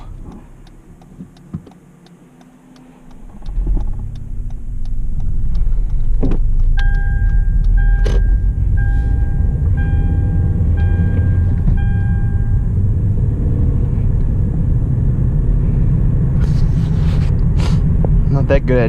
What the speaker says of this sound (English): Enough to test drive the car at least.